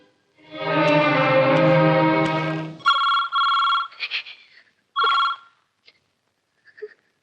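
A telephone rings indoors in short, loud electronic bursts, two longer rings followed by a few fainter clipped ones, after a sustained, tonal swell of sound fades out.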